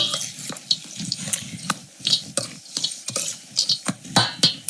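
Pumpkin seeds tossed in a pan, giving repeated scraping and rattling bursts with light sizzle, irregular and close, with no talk over them.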